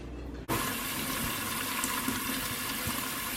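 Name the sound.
water filling a blocked kitchen sink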